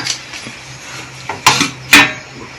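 A metal weight is lifted off a preheated cooking pot set up for baking, making a few metallic clinks and clanks close by, with two louder knocks near the end and no talk.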